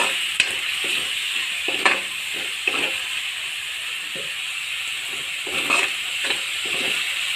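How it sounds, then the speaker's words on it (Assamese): Spice paste and onion fry in a pan with a sprinkle of water, giving a constant soft sizzle punctuated by intermittent spatula scrapes and stirring knocks. "এইখিনি ভাজি লম অলপ দেৰি"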